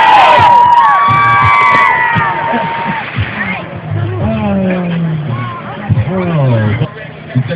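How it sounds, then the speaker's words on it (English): At a ski diving event on Mountain Creek slopes, an outdoor crowd cheers and shouts in a loud, sustained roar while an announcer's voice talks through it over a PA. "All right, Donatello, make some noise!"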